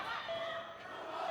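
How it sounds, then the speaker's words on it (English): Crowd cheering for a Chinese fighter during a women's 52kg sanda final on the Lei Tai, a steady roar of voices filling the hall throughout, loud and continuous. "you hear the crowd cheering on their countrywoman"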